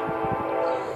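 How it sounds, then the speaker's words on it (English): A loud, steady train horn, apparently brand new, blares in one continuous harmonic blast with no break, close and dominant over any background. "damn train's horn is loud."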